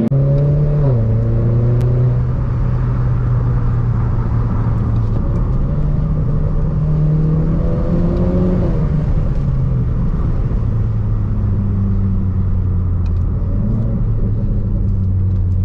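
A Renault 4 RS Trophy accelerates up through the gears, its engine note climbing and dropping at each shift, loud and close with a steady rumble and no voices.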